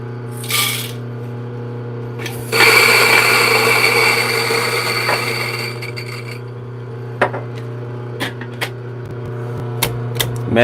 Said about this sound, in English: I'm going to grind some coffee beans